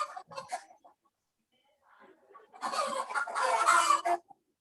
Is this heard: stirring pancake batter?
no